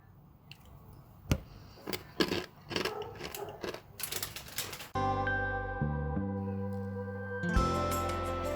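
Crispy air-fried chickpeas crunched up close in a burst of sharp, irregular cracks over a couple of seconds, then cut off abruptly by a sustained steady tone.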